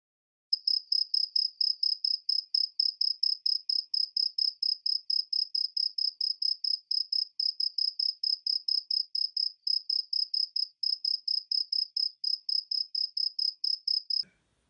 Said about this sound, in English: my cricket singer started chirping again